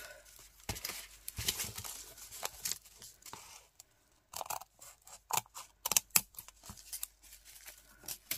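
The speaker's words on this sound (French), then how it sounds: "Alors, je prends le bon ciseau." Scissors snip through paper while pieces are cut out for an Etsy craft kit, giving a series of crisp, close cuts and rustles in irregular bursts with short pauses between them.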